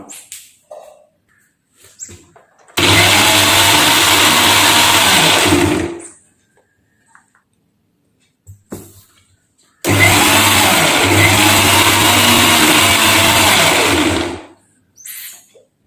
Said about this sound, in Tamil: வாழைப்பழத்தை போட்டதுக்கப்புறம் ஒரு சுற்று சுற்ற விட்டுலாம்